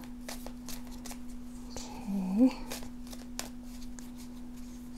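Tarot cards are shuffled by hand in a short, rapid riffle of flicking and rustling, fairly close and soft beneath a steady electrical hum, while someone speaks a brief word.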